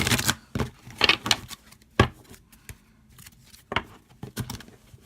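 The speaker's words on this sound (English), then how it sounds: "I'm sorry if you don't like to see me shuffle." Tarot cards being shuffled by hand: a series of short, close riffling and snapping bursts in an irregular rhythm, separated by brief quiet gaps.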